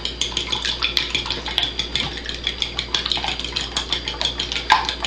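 Four eggs are whisked with a utensil in a bowl for scrambling, giving quick, steady clinking and tapping strokes close by with no talk.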